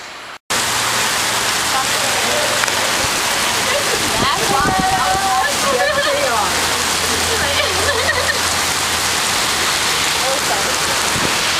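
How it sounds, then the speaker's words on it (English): Heavy rain pours down outdoors in a steady, dense wash of noise that fills the scene from start to finish, with a few faint tonal sounds briefly rising through the downpour. "Oh, it's really raining out here."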